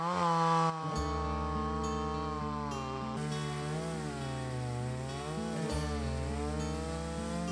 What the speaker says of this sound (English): there's still a lot of chainsaw work to make the wood usable.